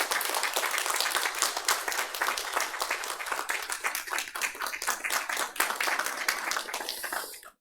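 A church congregation applauds warmly during a Sunday service appointment ceremony, dense steady clapping filling the hall for several seconds before tapering off at the end.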